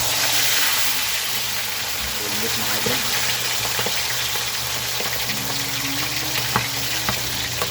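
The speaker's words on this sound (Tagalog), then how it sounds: "Prito na natin yung ating bangus." Boneless bangus milkfish frying in hot oil, a steady close sizzle and crackle with occasional pops and stirring, while someone talks over it.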